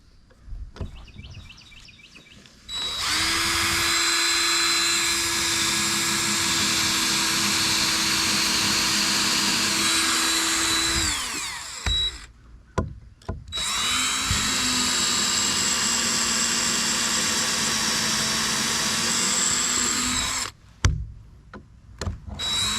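A cordless drill whirs loudly in two long bursts with brief pauses between them, drilling holes for roof purlins, its pitch sagging slightly as the battery dies.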